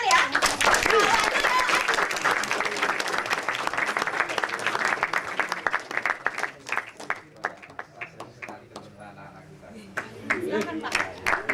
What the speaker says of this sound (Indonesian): Dan kita panggil saja dengan tepuk tangan ya.